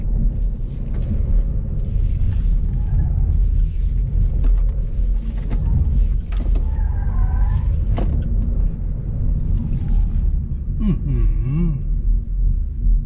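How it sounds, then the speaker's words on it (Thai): An MG4 Electric Icon, a rear-drive EV, runs a double lane change at up to 60 km/h, with a steady loud road and wind rumble, brief tyre squeals, and someone speaking over it. "อันนี้เดี๋ยวเป็นดับเบิลเลนเชนนะครับ ลองดูว่าไม่ความเร็วไม่เกิน 60 นะครับ"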